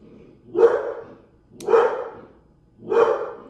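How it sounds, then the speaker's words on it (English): A single dog barks three times at roughly even intervals, each bark close and fairly loud, with quiet gaps between and no talking. "Dog barking."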